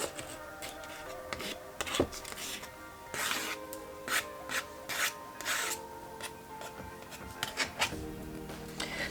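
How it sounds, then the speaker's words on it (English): A spatula scraping small cut paper bits off a card, producing a series of short, dry rubbing strokes in irregular rhythm, close and fairly clear over faint background hum. "we also use our spatula just to get all these little bits off the card. So we just scrape them off like that"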